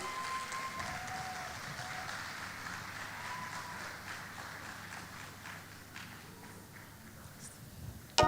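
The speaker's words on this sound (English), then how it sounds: "A round of applause, please." Audience applause fills a conference hall at CX CON 2025 as a CEO is introduced: a dense, steady patter of many hands clapping for about eight seconds, fading slightly toward the end.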